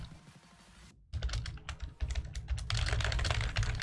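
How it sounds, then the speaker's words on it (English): Clacking keystrokes on a computer keyboard, rapid and irregular bursts after a brief silence, close and fairly loud, growing denser toward the end with no talking. "Give me a sec, typing something."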